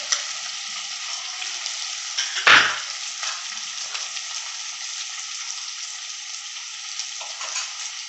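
Gooseberry pickle masala with turmeric sizzles and fries in a pan for a Kerala-style pickle, a continuous close hiss broken by one brief clatter as it is stirred.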